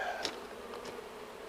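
Honey bees buzz faintly around an open hive frame, a couple of brief passing buzzes rising and fading over low outdoor background noise.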